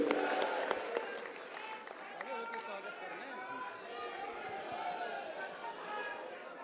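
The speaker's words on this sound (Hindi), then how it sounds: "एक बार जरा तालियों की गड़गड़ाहट से स्वागत करेंगे" Crowd applause welcomes a guest at a political gathering in Uttar Pradesh, moderate clapping spread across a large audience, loudest at the start and then settling, mixed with continuous crowd chatter and voices.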